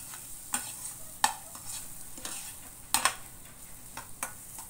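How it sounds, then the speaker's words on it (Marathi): Masala roasting in a pan for katachi amti, with a spatula scraping and clinking against the metal at irregular intervals over a soft, steady sizzle, close by and with no one talking. "हे बघा, मस्तपैकी मसाला भुजायला लागलाय"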